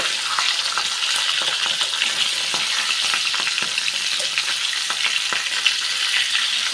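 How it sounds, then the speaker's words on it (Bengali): Rohu fish fries in oil in a pan, giving a steady, dense sizzle and crackle with scattered pops throughout and no talking. "এক পিঠ ভাজা হয়ে গেছে, এবার আমি উল্টে দিলাম।"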